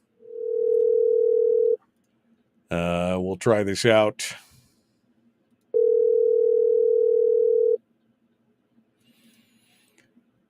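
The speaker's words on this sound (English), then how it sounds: "Phone's ringing." An outgoing phone call rings back twice, two steady electronic tones a few seconds apart, loud and clear, with someone speaking briefly between the rings.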